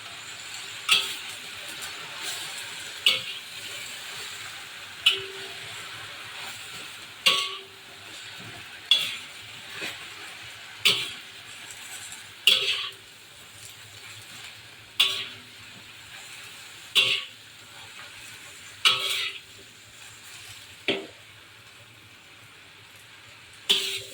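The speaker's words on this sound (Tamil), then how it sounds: "நம்ம புளிச்சக்கீரை வேக வச்சு நம்ம கிண்டிகிட்டு இருக்க போகிறோம்" A spoon scrapes and stirs in a pan at a steady rhythm, about a dozen strokes, over a soft sizzle of cooking gongura (pulichakeerai) greens.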